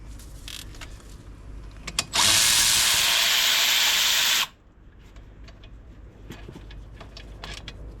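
A power tool winds wheel bearing bolts into the hub of a Nissan 370Z, one loud steady burst of about two seconds among quieter workshop clicks and rattles.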